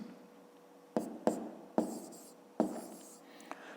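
Handwriting on paper comes through as four or five quick, crisp scratching strokes, each a short burst over a quiet background.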